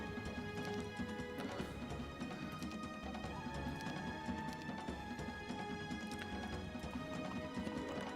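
Horse knights gallop with clip-clop hooves in the video game Heroes of Might & Magic III, with a steady stream of hoofbeats layered over continuous game music and effects at moderate level.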